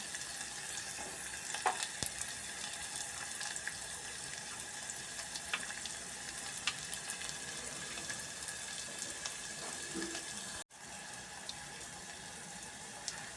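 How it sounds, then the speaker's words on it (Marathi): Onion frying with ginger-garlic paste and curry leaves in a pan makes a soft, steady sizzle with occasional stirring clinks, alone and fairly quiet throughout. "कांदा भाजून घ्यायचं आलं लसूणचं पेस्ट त्या घालायचं कढीपत्ता घालायचं"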